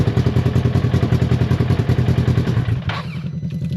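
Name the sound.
Polaris RZR XP1 side-by-side engine running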